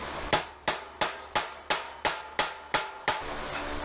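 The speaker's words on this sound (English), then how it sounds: "Sometimes you can use it as a chisel and pound right through it." A tool is pounded like a chisel through the metal bed of a 1965 Chevrolet C10 pickup during a short-bed conversion. Nine sharp, evenly spaced metallic hammer strikes ring close and loud, each decaying quickly, with no talking.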